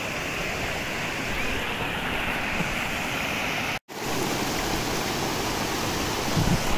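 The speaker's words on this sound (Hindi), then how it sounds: "गढ़ जाते हुए बीच में एक झरना आता है," A small waterfall near Udaipur, India, rushes in a steady, loud, close hiss of falling water, interrupted by a brief moment of silence midway.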